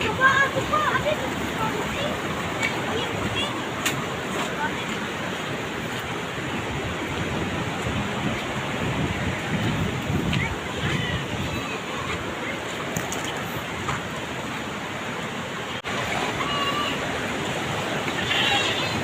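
Rushing typhoon floodwater carrying large logs roars steadily and loudly throughout, a dense, unbroken wash of churning water close by.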